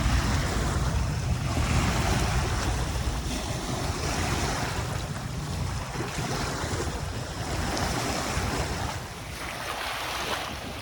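Waves roll onto the shore of Dolomite Beach on Manila Bay in the afternoon, a continuous loud wash of surf mixed with heavy wind buffeting the microphone, easing slightly near the end.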